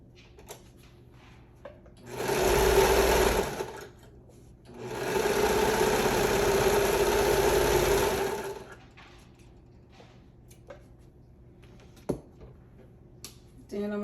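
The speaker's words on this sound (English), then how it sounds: "So now I'm going to sew the edges together." A sewing machine stitches the edges of fringed shorts together in two continuous runs, a short burst and then a longer steady whir, loud and close, with quiet pauses and a faint click between them.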